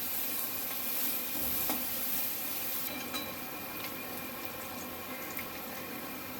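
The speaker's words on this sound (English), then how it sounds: "We'll saute it for around 2 to 3 minutes." Vegetables for chilli paneer sauté in a pan with a steady, even sizzle at moderate loudness. A few faint stirring ticks sound close by, and no one speaks.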